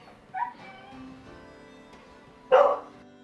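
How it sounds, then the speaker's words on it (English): Dogs kept at a house bark in the background, with one soft early yelp and a louder, sharper bark near the end against a quiet room. "We have 2 dogs here at the place where we're currently doing it"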